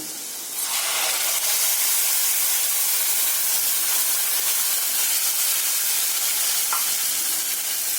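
Tengra fish sizzles loudly in a hot pan as black sesame paste is added, a dense continuous frying hiss close by that surges at the start and holds steady, with faint stirring.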